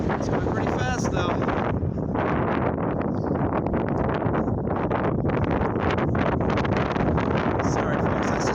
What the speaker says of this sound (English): that's just pushing my camera because we have a little bit of winds out here today